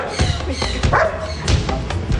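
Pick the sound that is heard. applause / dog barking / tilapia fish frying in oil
dog barking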